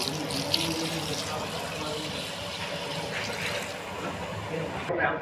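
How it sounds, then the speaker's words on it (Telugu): Water poured from a jug into a large pot of frying mutton curry cooked for a feast, a continuous splashing rush held at steady volume, close by, with faint background voices. "ఇప్పుడు దీంట్లో వాటర్ వేసుకుందాము వాటర్ పోయమ్మా"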